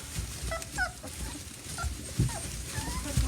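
A litter of young puppies, including black tri-colored ones, plays with new toys, giving faint, scattered whimpers and small yips over a low, busy rustle.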